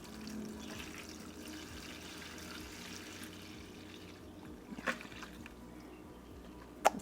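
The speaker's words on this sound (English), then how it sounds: "So first I'm just going to water these from underneath. Pour about an inch maybe of water in here." Water poured into a garden plant tray to water seedlings from underneath: a soft, quiet trickle and splash running steadily, with a couple of brief louder knocks near the end.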